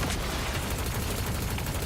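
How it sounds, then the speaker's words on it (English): Rockets launching in the video game Marvel Rivals, heard as a dense, steady wash of rumbling gunfire and booming blasts throughout, fairly loud and without clear gaps. "Rockets launching again."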